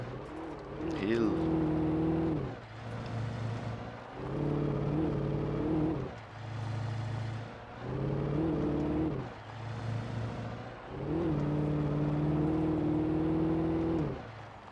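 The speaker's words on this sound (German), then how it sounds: "Also jetzt sehr viele Autos unterwegs, die einfach niemandem gehören." Cars in the Alan Wake video game drive by in repeated waves, each engine hum swelling and fading in turn, with a voice talking over them.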